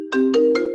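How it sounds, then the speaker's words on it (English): A phone ringtone rings during a town hall meeting, three bright repeating tonal bursts over a steady electronic tone, loud and close with no talk. "Not sure if that's my phone ring"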